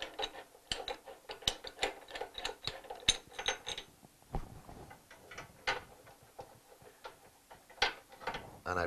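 A spanner with a bar through it loosens the spark plug on a Hyundai HYW2500P pressure washer, giving a long run of sharp, uneven ratcheting clicks and metallic ticks, close up, with no talk.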